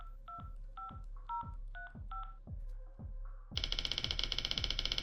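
A telephone keypad sounds a quick run of dialing tones, about six beeps in a row, then a buzzing ring tone pulses; no voices.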